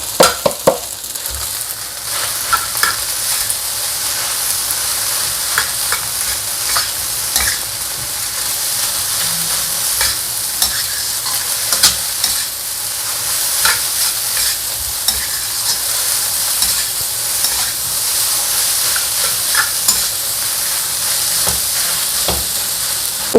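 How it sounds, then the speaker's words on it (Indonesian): Nasi biryani being stir-fried with anchovies and peanuts, giving a loud, continuous sizzle with repeated scraping and tossing strokes of the spatula across the pan. "Nasi biryani sama teri kacang kita masukin semua."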